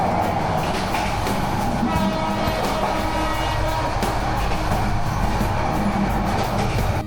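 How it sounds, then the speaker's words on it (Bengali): The Cox's Bazar Express train runs fast through the night, heard from inside a carriage as a loud, steady roar and rumble of wheels on rails with rattling, unbroken throughout. "কক্সবাজার এক্সপ্রেস ট্রেনটি।"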